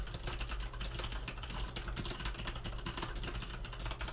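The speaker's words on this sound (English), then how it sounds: "I hope my keyboard is not too clicky" Rapid clicky typing on a computer keyboard, close and crisp, with dense irregular keystrokes running continuously and no talking.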